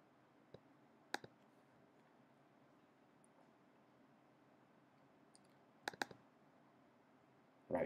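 A computer mouse clicks faintly in a quiet room, with a single click, then a quick double, a long pause and another cluster of crisp clicks near the end.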